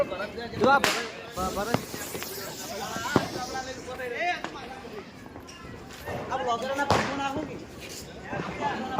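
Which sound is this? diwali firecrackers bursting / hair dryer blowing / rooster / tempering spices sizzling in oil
diwali firecrackers bursting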